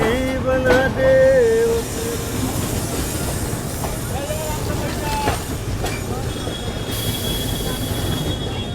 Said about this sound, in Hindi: नरकटियागंज जंक्शन से निकलते एक छोटा सा ब्यूटीफुल कर्व के साथ अपनी ट्रेन निकलती हुई।